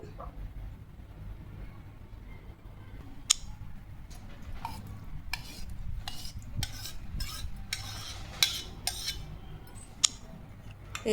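A spoon stirs cake batter made with maida, sunflower oil and yogurt in a bowl, giving soft, steady wet scraping with occasional sharp clinks against the bowl, quiet and close.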